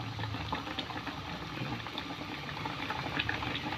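Banana heart boiling in water in a pan, a close, steady bubbling and simmering with small irregular pops throughout and no talking.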